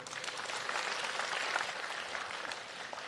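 Audience at a stand-up comedy show breaking into broad, steady applause, a dense wash of clapping from many hands lasting about three seconds without speech.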